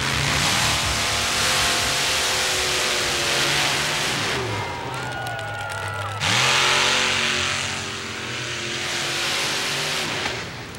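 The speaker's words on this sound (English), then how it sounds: "a Chevy S10 Blazer with a 568 cubic inch Chevrolet engine blown and injected on alcohol" A Chevy S10 Blazer race truck with a blown, fuel-injected 568 cubic inch Chevrolet engine running on alcohol roars loudly at a monster truck and mud racing event, revving up and down in sustained, raw bursts.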